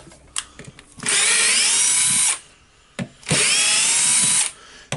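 Cordless drill or screwdriver backing screws out of a Hilti TE1000 AVR concrete breaker, two loud, steady whirring bursts of about a second each separated by a brief pause, with small clicks and handling noises around them.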